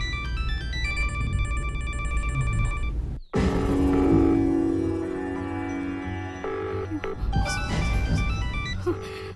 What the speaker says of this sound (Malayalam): ഫോൺ റിങ് ചെയ്യുന്നുണ്ട്, പക്ഷെ ആദ്യം ഫോൺ എടുക്കുന്നില്ല